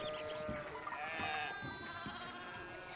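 Sheep in the video game Pentiment bleat in overlapping, quavering calls over a soft ambient music bed, fairly close and continuous.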